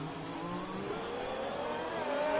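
Several F1 race cars on track at the Chinese Grand Prix in a video game, engines droning and revving steadily with a rising whine as one accelerates, loud and continuous without speech.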